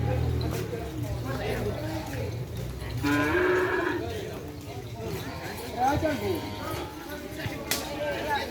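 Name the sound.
cattle mooing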